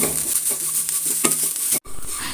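Grated coconut and curry leaves roast in a pan over a low flame for yam theeyal, a constant sizzle overlaid with scraping spoon strokes against the metal, cut off by a brief gap near the end.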